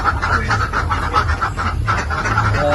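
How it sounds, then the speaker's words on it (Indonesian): Laying ducks on a duck farm in Pituruh, Purworejo, with a steady flock murmur and repeated quacking throughout, fairly close and continuous, mixed with a low background rumble. "Saya membudidayakan bebek petelur"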